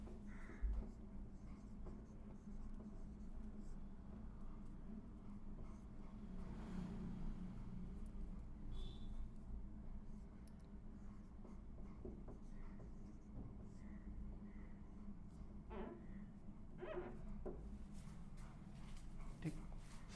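Pen scratching on paper while writing biology notes, a steady low scribbling texture running throughout, fairly quiet, with faint background noise and no clear talk.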